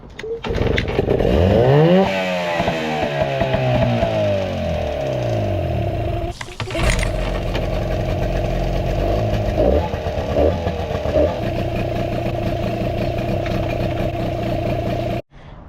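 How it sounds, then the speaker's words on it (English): A Nissan outboard motor on flushing muffs cranks with a rising whine, catches and then runs steadily at a loud, close idle with a rough, even engine drone. "Alright, so it started right up."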